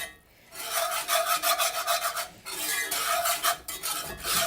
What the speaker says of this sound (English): You probably can't stand the sound of that scraping